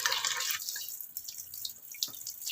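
A tap runs while catfish are rinsed clean in a sink, with a close splashing rush at first. The flow then turns to softer trickles and scattered drips.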